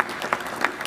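An audience at a girls' honour ceremony claps in a brief, moderate burst of scattered applause, a few sharper claps standing out.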